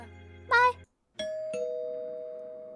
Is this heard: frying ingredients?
no